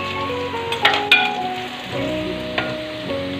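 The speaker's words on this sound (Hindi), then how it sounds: "इसे भी हम साथ में भून लेंगे।" Chopped onions and green chillies frying for poha in a pan, a steady sizzle close up with a few sharp clinks as the spoon strikes the pan.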